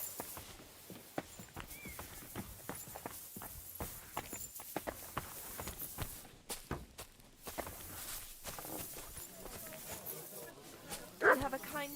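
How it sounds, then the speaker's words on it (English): A dog in the medieval role-playing game Kingdom Come Deliverance 2 gives a brief bark near the end, amid footsteps and clip-clopping horse hooves, with characters talking. "You have a kind master, eh, doggy?"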